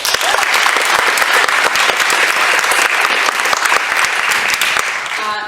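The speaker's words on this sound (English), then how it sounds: "can we just give them a round of applause?" Loud, dense audience applause fills the hall at a university debating championship closing ceremony, steady and sustained throughout with no pauses.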